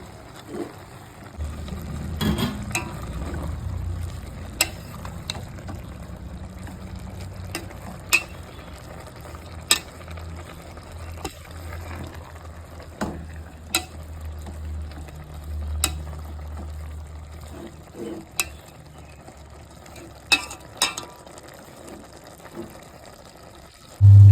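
Goan taklyachi bhaji, cooked without oil, stirred in a pan: irregular scrapes and sharp utensil clinks over a low, steady simmer, close by, with no talking.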